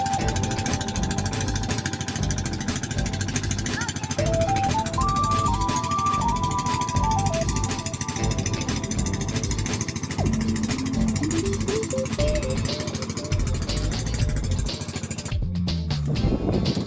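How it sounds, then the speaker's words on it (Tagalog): A motorized outrigger boat engine drones steadily while towing near floating cottages and a sandbar, loud and continuous with rising and falling whine tones throughout and faint voices in the background. "pangka na may motor"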